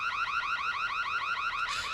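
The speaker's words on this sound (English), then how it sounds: "A symphony of burglar alarms went off." Burglar alarms wail on a New York street after a shop window is smashed with a brick: a loud, rapid, repeating electronic warble that cycles evenly throughout with no voices.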